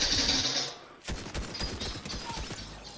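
A monster in a video game lets off bursts of rapid gunfire, heard as a stuttering run of loud shots with a brief lull partway through.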